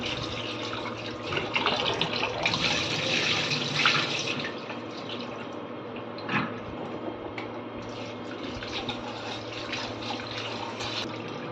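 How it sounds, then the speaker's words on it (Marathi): Rice is rinsed by hand under water for a home meal of dal and rice, with steady running and splashing water from a tap or sink and a few louder sloshes, close by and continuous with no talking. "चला आता तांदूळ दोन तीन पाण्याने आपण धुवून घेऊया"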